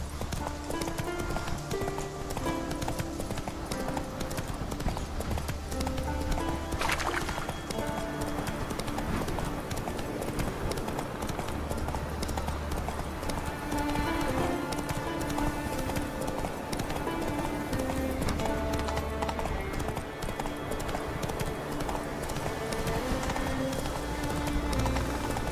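Roach the horse gallops in The Witcher 3, hooves pounding in a fast, continuous rhythm over a busy layer of game music, loud and sustained with no speech.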